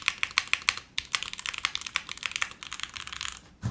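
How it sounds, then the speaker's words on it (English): Clicky keystrokes and rattles from a mechanical computer keyboard with a loose screw lodged inside, a quick run of sharp close taps followed by denser irregular clacking, no voices. "There's a screw somewhere lodged in here. As you guys can hear it."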